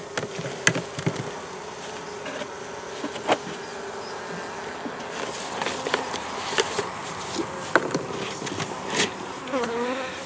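Honeybees buzz steadily around a hive during feeding with a gallon of dense invert syrup, a continuous close drone with occasional nearer passes and light knocks or handling sounds.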